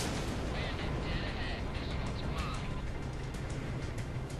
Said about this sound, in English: I forgot they have a Flak cannon.